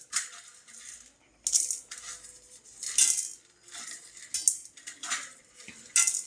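Urad dal is dry-roasted and stirred in a metal pan, producing repeated bursts of scraping and rattling as the lentils are pushed around, irregular and close, with no talking.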